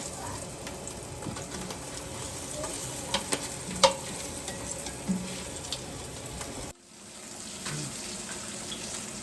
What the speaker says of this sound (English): So all those short ribs are continuing to sear behind us.